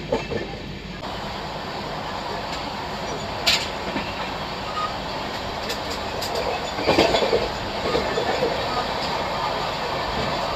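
Steady rumble of the 12808 Samta Express (Nizamuddin to Visakhapatnam) heard from onboard, running on the Chennai–Visakhapatnam main line tracks, with continuous wheel and carriage noise and a few brief louder clanks.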